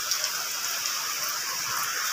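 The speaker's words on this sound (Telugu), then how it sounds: "వర్షం అయితే జోరుగా పడుతుంది" Heavy rain falls steadily outside, an even, close wash of hissing drops filling the moment without pause.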